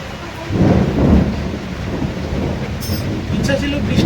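Heavy rain falls steadily with low rumbling thunder rolling in and out, loud and close throughout.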